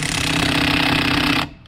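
A power tool hammers rapidly and loudly while tightening a bolt on a car, one continuous burst of about a second and a half that cuts off abruptly.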